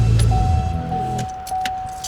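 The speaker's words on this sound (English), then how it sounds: "And then we'll go ahead and shut the car off." A Chevrolet Camaro engine shuts off after about a second, its low rumble cutting out, while keys jangle and clink close by; a steady electronic tone runs through most of the clip.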